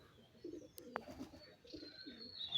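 Pigeons cooing on a rooftop: soft, low, rounded coos repeat in short bursts at close range, with a single sharp click partway through and a faint high whine in the background.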